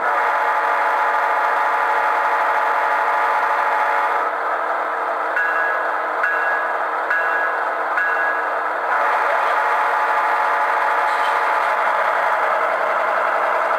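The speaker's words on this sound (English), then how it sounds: "You can hear that air compressor going off there," Model ES44 diesel locomotive with DCC sound through a new aftermarket speaker, steady engine drone with an air compressor cycling in the middle, a few brief tonal beeps, no talking.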